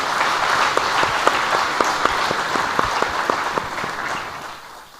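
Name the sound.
applause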